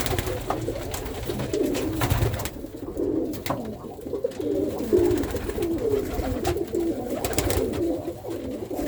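Irish tumbler pigeon cocks coo repeatedly in soft, throaty rolling calls that overlap close by, with some rustling and scraping in between.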